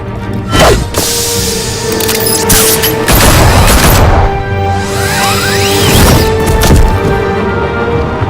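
Bursts of gunfire aimed at Batman in the Batman Telltale video game, a loud, dense barrage of shots and booming impacts running continuously over a sustained game soundscape.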